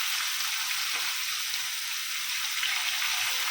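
Fish sizzles in hot oil in a pan for Konkani-style fish biryani, a steady, dense frying hiss that stays even and close throughout with no talk.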